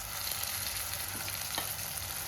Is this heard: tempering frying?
yes